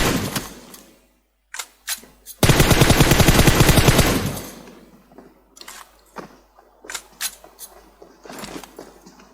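Sustained automatic gunfire sprays in PUBG Mobile, a dense rapid burst of about two seconds preceded and followed by scattered single shots and short clicks, loud and alone with no talking.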